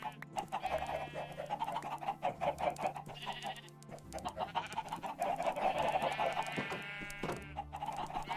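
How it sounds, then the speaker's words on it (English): Chickens clucking in a video game, mixed with bleating farm animals: repeated calls come in irregular bursts over a low steady hum, fairly quiet, with no talking. "There's so many, like, sheeps and chickens."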